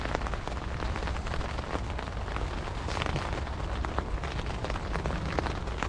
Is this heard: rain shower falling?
yes